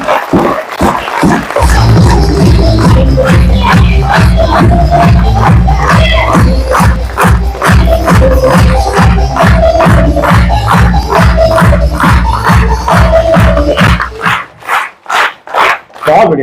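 Seminar audience clapping in unison, a loud, tightly synchronized rhythmic beat of many hands repeating steadily for over ten seconds, then breaking into a looser scattered patter, with voices chanting along.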